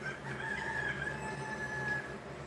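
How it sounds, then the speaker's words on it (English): Roosters crow faintly from the far corner of a property among chickens and guineas, a drawn-out crow heard at a distance over constant background noise. "You can hear my roosters going off."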